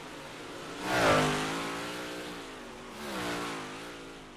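A Big Block Modified race car engine in a racing simulator swells past, with a strong harmonic whine peaking early and a second, fainter pass later, no talk over it.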